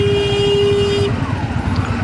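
A car horn blares in a single held toot for about a second over the rumble of a motorcycle engine, a Royal Enfield Hunter 350 stuck in a rainy traffic jam on a road in Cox's Bazar.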